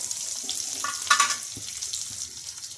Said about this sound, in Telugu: ఆనియన్స్ అయితే మనకు బాగా ఫ్రై అవ్వాలి